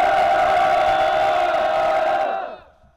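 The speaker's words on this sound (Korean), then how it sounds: "전방에 2차 함성 3초간 발사!" Firefighter trainees at a fire service academy shout a battle cry in unison, one loud sustained massed yell held for about two and a half seconds before it cuts off and leaves a brief echo.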